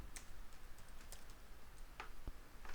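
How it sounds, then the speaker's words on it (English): Light tapping on a computer keyboard at a Windows 8 machine, a few soft, sparse keystrokes close by in a quiet room, with no voices. "so I'm just typing there"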